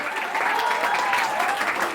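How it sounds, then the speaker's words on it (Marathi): Applause from an audience at a village Satyanarayan puja gathering in Maharashtra: a short, dense burst of clapping from many hands, loud and sustained throughout. "जोरदार टाळ्या वाजवा"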